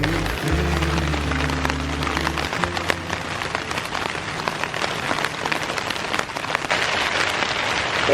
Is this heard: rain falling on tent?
yes